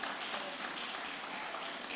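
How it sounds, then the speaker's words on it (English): A round of applause at an architects' chapter meeting, steady soft clapping from a gathered audience heard at a distance, faint and continuous with no talk over it. "A round of applause for her."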